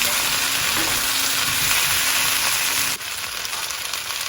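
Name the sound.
onions, cauliflower and chilli frying in a pan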